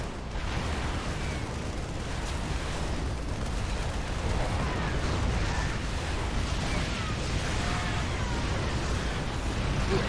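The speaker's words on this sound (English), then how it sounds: "the olive turrets are doing amazing damage" Turret fire and explosions rumble continuously in a competitive team-league video game match, a dense, steady wash of booms and bursts with no clear pauses.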